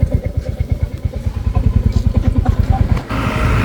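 JCB excavator engine labouring up a steep hill road in Kolli Hills, a steady rapid thudding diesel beat with rattling, loud and close, rising to a heavier continuous roar near the end.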